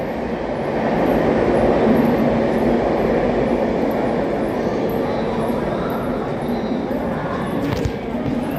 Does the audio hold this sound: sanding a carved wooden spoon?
no